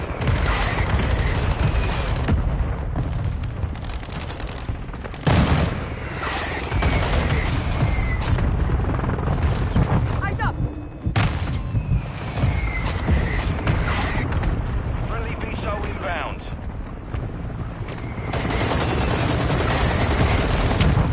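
Heavy sustained gunfire in a Modern Warfare 2 battle, dense overlapping automatic bursts with booming impacts, loud and nearly continuous throughout.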